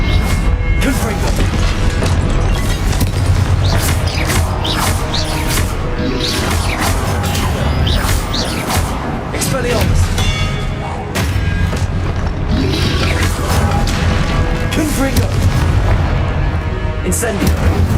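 Confringo blasting spell explosions in Hogwarts Legacy, a dense barrage of loud booming blasts and crashes over constant combat noise, with a voice talking throughout.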